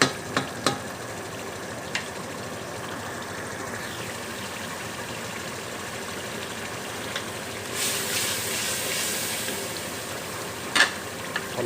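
Tomato paste, chili, turmeric, salt and spice masala frying in a pan, a steady soft sizzle throughout with a few stirring clicks and a brief brighter hiss near the end.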